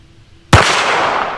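A single loud, close gunshot from a Standard Manufacturing Switch-Gun revolver, a sharp crack after near silence followed by a long, sustained ringing decay.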